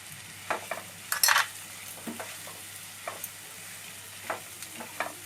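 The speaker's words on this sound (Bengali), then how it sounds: "মশলাটা ধীরে ধীরে কষা হচ্ছে" Masala slowly stir-fried in a pan for sapla chingri gives faint, scattered scrapes and taps from the stirring over a quiet background, with no talking.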